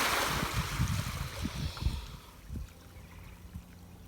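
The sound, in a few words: water pouring to fill tortoise mud wallow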